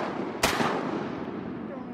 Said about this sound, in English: Shoot that duck, Blaine. Shoot that duck.